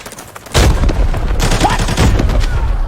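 Gunfire from the Arena Breakout video game on the Northridge map starts suddenly after a brief quiet moment and then keeps going as loud, close, rapid shots.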